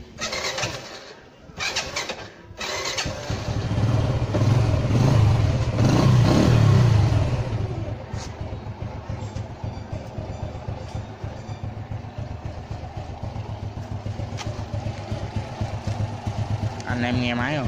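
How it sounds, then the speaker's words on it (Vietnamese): A small Honda Wave 110 motorcycle engine starts with a brief crank, revs, then settles into a quiet, steady idle close by, with someone talking over it. "Thì giờ mình nổ máy, anh em nghe máy ha."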